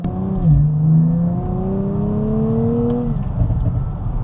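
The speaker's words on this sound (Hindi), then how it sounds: "गाड़ी के अंदर तो सुन रहे हैं क्रैकल्स" Nissan Z Nismo heard from inside the cabin, a rising engine rev with gliding harmonic tones that dip and climb over several seconds, loud and close, with small crackle-like pops near the end.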